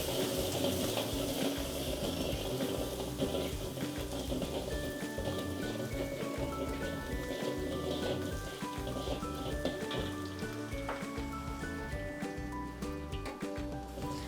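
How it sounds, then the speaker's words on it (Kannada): Green chilli, ginger and garlic fry in a pan, giving a continuous dense sizzle and crackle that runs steadily throughout at moderate loudness, with no voices over it. "ಚೆನ್ನಾಗಿ ಫ್ರೈ ಮಾಡ್ಕೋಬೇಕು."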